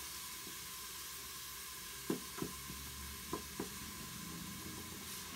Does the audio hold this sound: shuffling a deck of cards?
no